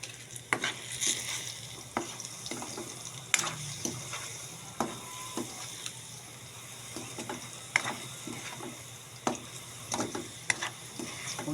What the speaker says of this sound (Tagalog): Piniprito ko muna siya bago lagyan ng matamis